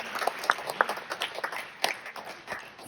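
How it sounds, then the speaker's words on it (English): Audience clapping and cheering at a Femina red carpet event in Mumbai, with bursts of claps over a crowded background, moderately loud and fairly close. "A round of applause for my brother, Artigan."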